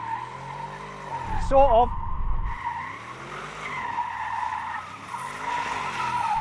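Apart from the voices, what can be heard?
Audi RS Q8 SUV skidding with stability control off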